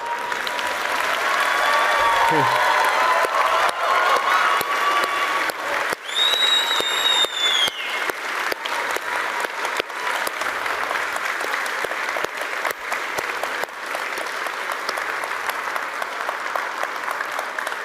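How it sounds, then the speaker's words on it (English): A large audience at a ten-year anniversary celebration applauds the ZOS team with sustained, dense clapping and scattered cheers and whistles, loud and continuous throughout. "join me in giving a round of applause to the team at ZOS"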